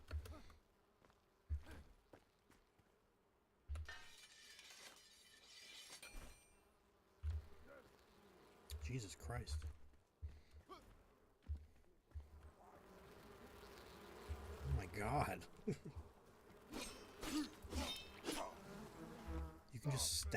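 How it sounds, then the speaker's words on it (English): Insects buzz in a video game for about twenty seconds, the drone swelling and fading amid bursts of game noise, while someone talks and exclaims over it. "You can just stab the bees?"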